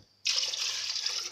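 Water pours steadily into a cooking pot for pickled chicken thighs, starting abruptly as a loud, close, continuous splashing gush that runs to the end.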